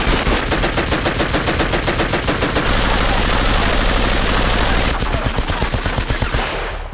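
Guns firing in a PS2 Call of Duty online match, loud, punchy automatic bursts in rapid continuous rhythm, close and harsh, with a brief roaring stretch between volleys.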